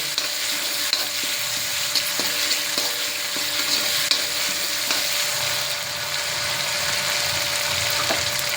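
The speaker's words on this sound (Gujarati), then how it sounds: "હું આ 1 ચમચી આદુ મરચાંની પેસ્ટ અંદર એડ કરી દઈશ ને આને 1 મિનિટ માટે હું સાંતળી લઈશ" Ginger-chili paste sautéing in a pan over a low flame, a steady close sizzle with occasional light scraping stirs throughout.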